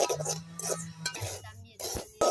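Semolina (rava) dry-roasting in a pan is stirred with a utensil, producing soft scraping and light clinks against the pan in short irregular strokes, close and fairly quiet, with a faint low hum behind.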